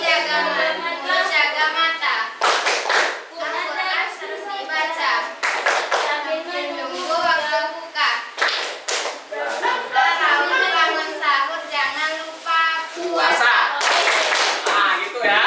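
Children chant the tepuk puasa clapping rhyme in a classroom, sharp bursts of group hand claps punctuating their sung, rhythmic voices, close and lively throughout.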